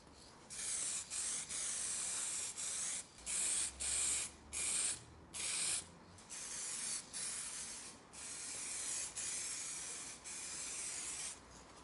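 Clear coat lacquer hisses from a spray gun onto carbon fibre wheel arches for an Alfa Romeo 159 in bursts of about a second, separated by short pauses, close and steady, with no talking.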